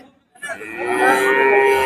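Cattle at the Seenapuram cattle market, where heifers are traded, give a single loud, close moo that starts after a brief silence and holds steady to the end.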